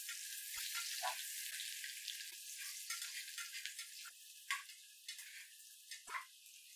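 Onions sizzling and crackling in hot oil, a steady bright hiss with occasional pops and stirring clinks, close by, no voices.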